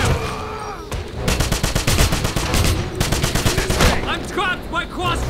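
Rapid automatic gunfire in the shooter game Wolfenstein (2009), loud bursts of rattling shots fired close, with short gaps and a voice shouting briefly near the end.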